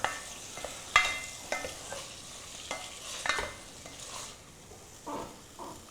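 Shrimp sambal with petai (stink beans) is sautéed in a pan, with quiet scattered stirring scrapes and clinks against the metal over a soft sizzle, close by and without speech.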